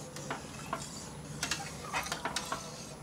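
A spoon scrapes and clinks quietly against a pressure cooker pot while stirring rice and water, a few irregular strokes, soft and close with faint background hiss.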